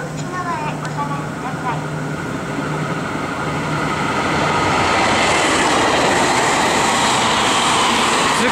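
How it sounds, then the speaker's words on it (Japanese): A train rolls into a Japanese station steadily with mounting rumble and squealing wheels, growing louder and closer, while a station chime and announcement telling passengers to stand behind the yellow line sound faintly at first. "反対側からパパさん系ソニックかな、こうやってきたところでございます。 列車が参ります。"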